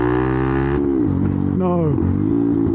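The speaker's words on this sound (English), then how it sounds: "Oh, listen to that downshifting" A Benelli TNT 125 motorcycle with an upgraded exhaust downshifts nearby, its engine note dropping and then rising sharply between gear changes in a rough, throaty burble that stays loud throughout.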